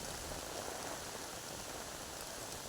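Heavy rain pours steadily during crab fishing with nets in a flooded, bushy area, a dense unbroken hiss of drops close around, with no voices.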